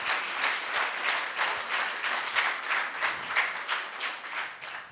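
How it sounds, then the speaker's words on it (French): A church congregation applauding, a large group clapping in loose waves with rhythmic swells, close and lively without speech. "J'aimerais entendre un grand applaudissement à ceux qui le croient."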